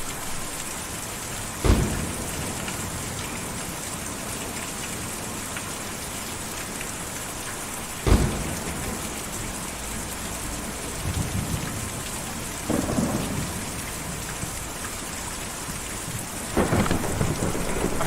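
A thunderstorm in the video game Kentucky Route 0: steady heavy rain pours throughout while four sharp thunder cracks break out at intervals, some trailing into low rumbles.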